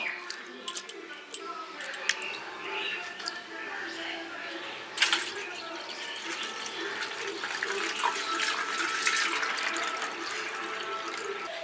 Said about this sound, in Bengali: আমি আস্তে আস্তে ভালো করে চালটা রগড়ে নিচ্ছি যাতে উপরে যে ময়লাগুলো থাকে সেগুলো ভালো করে ধুয়ে যায়